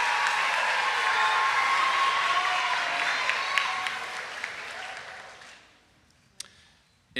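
Applause fills the hall at a school speech meet awards ceremony, a dense, steady wash of clapping that gradually thins and fades to near silence, followed by a few stray claps at the end.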